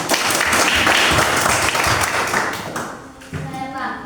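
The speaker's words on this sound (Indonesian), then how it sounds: "tepuk tangan" Classroom applause from pupils at a teacher's prompt during a lesson: a brief burst of quick, uneven clapping that fades out over a few seconds, close by, with children's voices mixed in.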